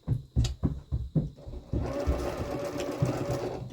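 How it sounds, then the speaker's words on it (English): A sewing machine top stitching the tucked raw edge of a quilted pillow shut, first in a few separate short bursts and then running in a steady continuous whir, close and clear with no talk. "I'm going to top stitch this shut so it doesn't come open,"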